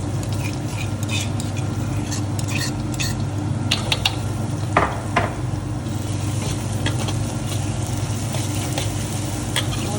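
Onion with garlic and ginger paste fries and is stirred in a pan while making chana dal kadhi, producing a loud, steady sizzle broken by scattered scraping and clinking stir sounds.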